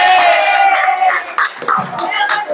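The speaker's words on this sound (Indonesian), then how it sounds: "Tepuk tangan untuk Mas Aldo." Students in a classroom clap and cheer for a classmate, loud and close, with excited shouts and young voices breaking through the clapping as it wavers and tails off.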